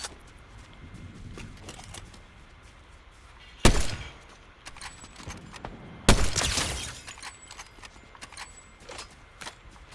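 Two sharp, loud gunshot cracks stand out in a Fortnite match, one near four seconds and another near six, over a busy background of quieter game sounds and small clicks.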